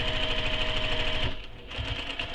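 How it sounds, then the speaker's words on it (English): A sewing machine backstitches at the top of the fabric, running in a rapid, steady mechanical stitch, pausing briefly, then stitching again at close range. "I'm going to backstitch"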